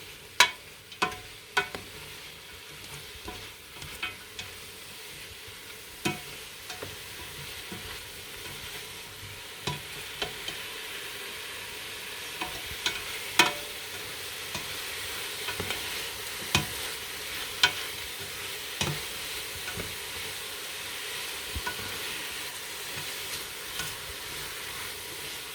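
Mushrooms fry in a pan for fettuccine Alfredo, a quiet continuous sizzle broken by scattered sharp clicks and taps of a utensil stirring, with no voices.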